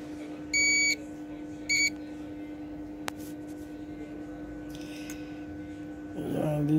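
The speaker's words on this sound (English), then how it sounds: "Let's check on the multimeter." Two short electronic beeps from a multimeter probing a MOSFET for a short on an HP ProBook 450 G2 laptop motherboard, the first longer, the second brief, over a steady low electrical hum with faint handling noise at the end.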